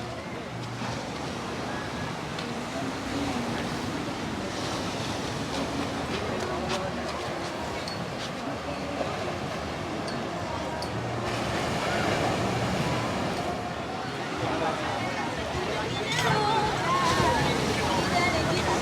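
Waves washing onto a sandy beach on an evening walk, a steady soft surf roar with wind under scattered distant voices.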